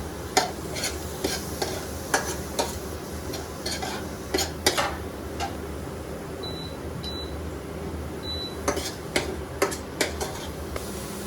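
Chopped tomatoes are stirred in a pan over a soft, continuous background sizzle. Spoon clinks and scrapes against the pan come at an irregular pace, close and moderately loud, with no talking.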